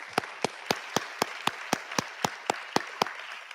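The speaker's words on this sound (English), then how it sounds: "Let's have one more round of applause for all the graduates." Steady rhythmic clapping at a graduation ceremony, sharp evenly spaced claps about four per second, sounding like a small group or single close clapper in a hall, with no voices.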